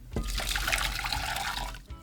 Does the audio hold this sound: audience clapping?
no